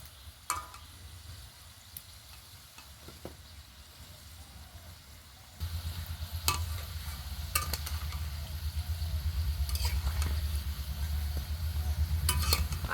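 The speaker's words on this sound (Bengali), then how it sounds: "হালকা আছে খুব সুন্দরভাবে একটু নেড়ে চেড়ে ভেজে নিতে হবে" Stuffed atta snacks deep-fry in oil, a quiet bubbling that swells into a louder, dense sizzle halfway through, punctuated by light clicks and scrapes of stirring.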